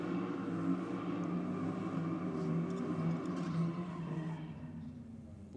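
A Ford Falcon's engine rumbles at a drag race, a steady deep, loud drone holding throughout with a slight fade near the end, no talk over it.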